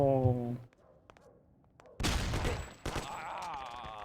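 Gunshots in the video game Mafia, a short burst of sharp cracks following a brief voice, then a second volley with ringing tail, fairly close and loud.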